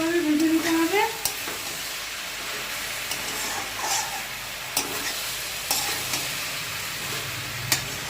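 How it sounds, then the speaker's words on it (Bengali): Cabbage and potato pieces fry with roasted poppy seeds in a pan, a soft steady sizzle and hiss with scattered clinks and scrapes of stirring, and a brief voice-like tone near the start. "পোস্ত দিয়ে আরেকটু ভালোভাবে ভেজে নিতে হবে।"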